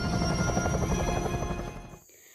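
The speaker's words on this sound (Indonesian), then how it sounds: "Helikopter." A helicopter from the film Jurassic World flies overhead, its loud, steady rotor chop filling the air with a whining turbine tone before the sound cuts off abruptly near the end.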